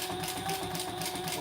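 A sewing machine stitches a scant 1/8-inch seam along the sides of a fabric wallet, a steady close whirring hum with a fast, even mechanical pulse.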